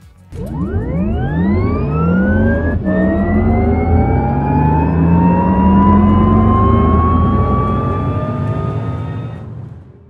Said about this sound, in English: you can switch on the electric sports sound.